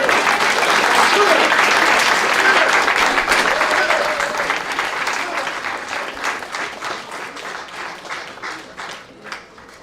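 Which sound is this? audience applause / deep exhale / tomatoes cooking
audience applause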